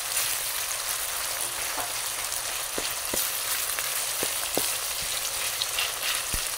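Squid adobo frying in a pan, giving a steady close sizzle with scattered sharp pops and crackles throughout.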